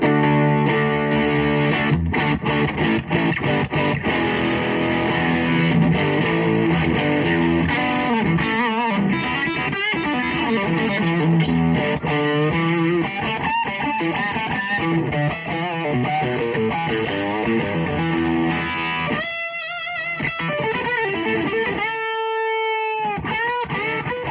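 Heavily distorted electric guitar through an overdrive pedal plays loud, thick chords and riffs continuously, with a couple of brief pauses and sustained ringing notes near the end.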